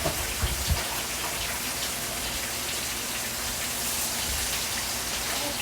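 Water running from a kitchen tap while hands are rinsed during Sunday dinner cooking, a steady hissing splash with a few small knocks at the start, continuous and moderately faint.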